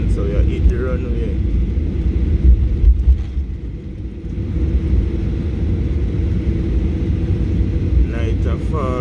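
Jet airliner rolling down the runway on takeoff, a steady loud rumbling roar of engines and wheels that swells slightly midway, with talk underneath.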